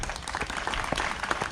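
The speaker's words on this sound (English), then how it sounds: "So can we give them a round of applause?" Applause from a community gathering in Damascus, Virginia, a year after Hurricane Helene, a steady patter of many hands clapping, moderately distant and even throughout.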